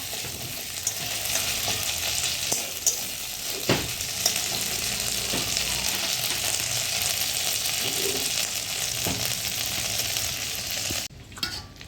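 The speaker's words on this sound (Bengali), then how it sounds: "আদা রসুন বাটাটা একটু ভালো করে ভেজে নেবো" Ginger garlic paste frying in a pan gives a steady, loud, close hiss of sizzling oil, broken by occasional light clinks and scrapes of a spatula.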